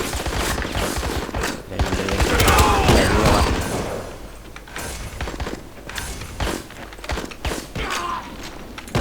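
Dense, continuous gunfire in an online shooter game, with rapid overlapping shots and bursts that stay loud throughout, then ease slightly into more scattered firing.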